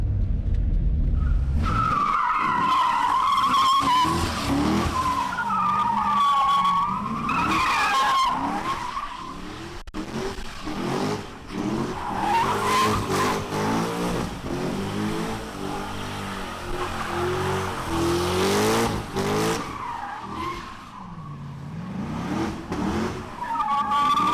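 A Corvette C6 Z06 performs a burnout. Its tires squeal loudly and continuously as the engine revs and surges in repeated waves. The sound is close and harsh and runs unbroken.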